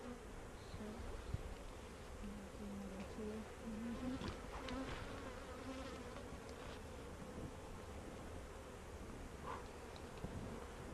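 Honeybees buzz around an open beehive during a beekeeping lesson, a dense, continuous hum with individual bees drifting close and away, rising and falling in pitch.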